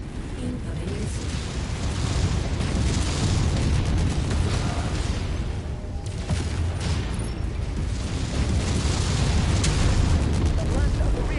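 Missile explosions in a mech battle in the video game Mechwarrior 5 make a loud, continuous booming roar. Overlapping blasts rumble heavily for over ten seconds without a break.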